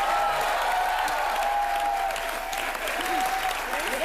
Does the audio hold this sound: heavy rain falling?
no